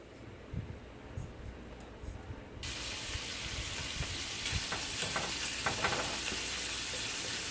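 Bacon frying in a pan while being broken up, with a faint crackle at first that swells into steady, louder sizzling alongside scattered scraping and stirring clicks.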